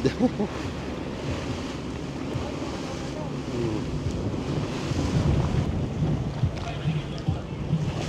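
Ocean waves off Boracay heard from a party yacht at sea, a broad continuous rush of surf mixed with wind buffeting the microphone and a low boat rumble, with people talking faintly.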